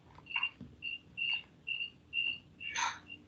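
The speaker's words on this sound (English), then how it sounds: "Could you mute your crickets?" Crickets chirp in a regular rhythm of short, evenly spaced trills, faint and steady over a low background hum, with no speech.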